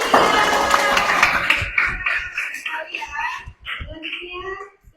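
A group of people clapping their hands together at a school class session, the applause dense at first and then thinning out into scattered claps with chatter and shuffling around it.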